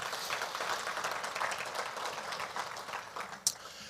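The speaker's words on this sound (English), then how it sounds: "Round of applause for Michael for being here." An audience at a state legislative update claps for a Bellingham city council member, a moderately faint, steady round of applause that tapers off near the end.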